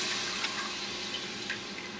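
Milk pours steadily into a hot pan, a continuous splashing wash with a faint sizzle underneath, close by and without any talking.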